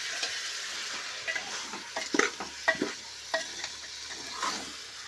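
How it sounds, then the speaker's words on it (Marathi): A grandmother stirs chicken frying in a pressure cooker on a full flame, with a ladle scraping and knocking in irregular strokes over a steady background sizzle. "हे बघा आजी आता सर्व व्यवस्थितपणे हलून घेत आहे"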